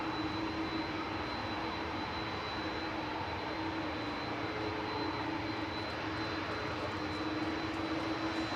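Airliner jet engines at Manchester Airport make a steady, loud broadband roar with a constant whine above it, holding even for the whole stretch with no talk.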